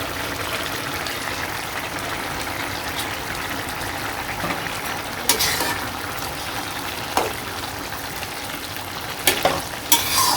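Fish sizzles steadily in a hot pan during a village-style gourd curry cook, with a dense frying hiss throughout and occasional sharper clacks and scrapes of a utensil against the pan.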